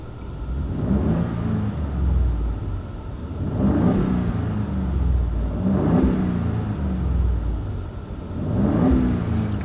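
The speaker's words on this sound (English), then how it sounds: "Let's hear the exhaust just with a couple revs first." Stock exhaust on a Ford Raptor revved several times and heard from inside the cab, a muffled low rumble that swells and fades in four even rises, with no talk.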